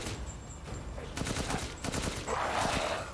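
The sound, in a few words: gunfire in video game Resident Evil Village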